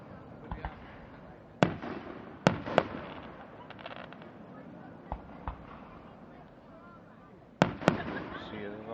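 Fireworks at Lime Rock race track crack and boom at a distance in scattered sharp reports, several close together, while people chat quietly nearby.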